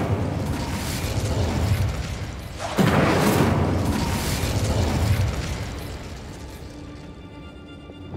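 Incendio fire spell cast in the game Hogwarts Legacy: a rushing, crackling burst ignites abruptly partway through, swelling into a loud roaring blaze that fades gradually toward the end, with no talking.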